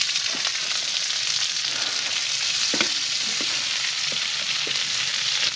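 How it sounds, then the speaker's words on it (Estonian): Onion and potatoes fry in a pot as the base for a fish soup, a steady loud sizzle with occasional stirring clicks and scrapes throughout. "Et kõigepealt praeme sibula, praeme natukene kartulit."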